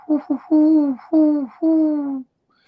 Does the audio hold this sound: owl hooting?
yes